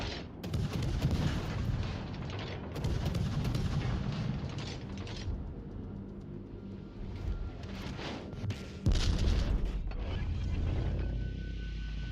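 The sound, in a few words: naval guns firing at the Montana battleship, video game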